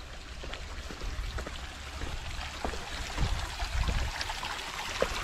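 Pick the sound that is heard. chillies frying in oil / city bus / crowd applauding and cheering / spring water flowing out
spring water flowing out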